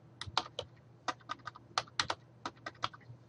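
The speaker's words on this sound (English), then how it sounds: "here we want to type in click" Fingers typing on a computer keyboard while entering text into an Excel spreadsheet, a quick irregular run of crisp clicks in small bursts, close and clear over a faint low hum.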